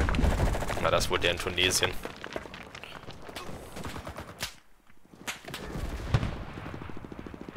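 Submachine gun fire in Enlisted, rapid loud bursts of shots mixed with other battlefield gunfire, with someone talking over them.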